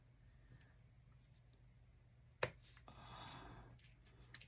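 Scissors snip the tip off a plastic nozzle on a new LGN Pro product, a single sharp click followed by a brief rustle of handling in a quiet room.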